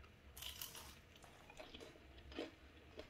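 Someone bites into a crunchy shrimp fritter dipped in sauce, giving a few faint, close crunches and chewing sounds in a quiet room.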